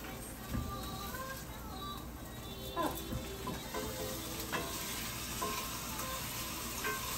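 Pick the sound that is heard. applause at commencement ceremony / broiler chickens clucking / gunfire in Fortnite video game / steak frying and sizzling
steak frying and sizzling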